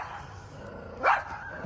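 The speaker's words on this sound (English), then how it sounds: "She's actually known in the park as being the dog that barks on the balcony." From a balcony, a dog gives a single sharp bark at moderate distance over faint background noise.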